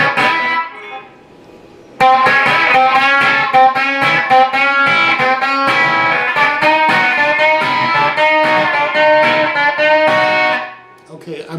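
Slide guitar solo from the Faces song "Stay With Me", played with hybrid picking, with gliding sustained notes on the third string after a brief quiet lead-in, loud and continuous until fading near the end.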